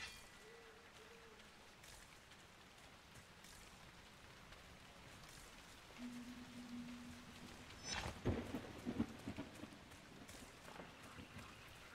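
Steady rain falls in a fantasy game world, with a rumble of thunder and a louder crack toward the end, all fairly quiet and distant.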